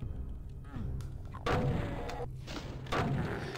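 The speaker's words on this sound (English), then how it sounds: "I'm gonna jump down here." A Doom player character lands after jumping down from a ledge, giving two dull, heavy thuds about a second and a half apart over a steady rumble of game ambience.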